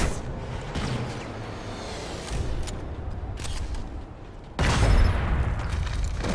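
A grenade goes off in the Planetside 2 battlefield game: a loud, sudden broadband blast bursts in about two-thirds through, following several seconds of rumbling, noisy combat ambience with scattered faint impacts.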